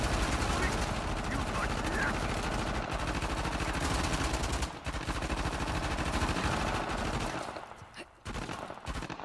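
Sustained loud gunfire from an enemy's weapon in the video game Uncharted: The Lost Legacy, rapid bursts rattling almost continuously before thinning out near the end.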